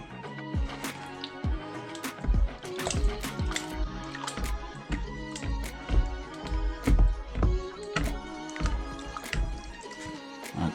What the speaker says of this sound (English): I'm going to clean my pan off here